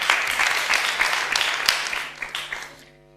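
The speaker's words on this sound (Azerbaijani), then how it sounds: "Alqışlayaq, alqışlayaq." Studio audience at a televised Azerbaijani ashug music show claps in a burst of applause that stays lively for a couple of seconds, then thins out and fades to near silence.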